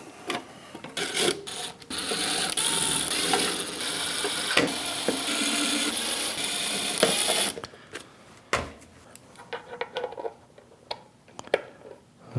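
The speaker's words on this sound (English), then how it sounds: "let's go ahead without further ado and screw it in" A lathe speed-control mount being screwed down by hand, with rapid ratcheting clicks and scraping mechanical rattles close up for several seconds, then quieter scattered clicks and handling noise.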